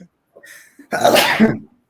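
A loud, close sneeze bursts out after a faint inhaling buildup, a single sharp explosive sneeze in a quiet room with no talking over it.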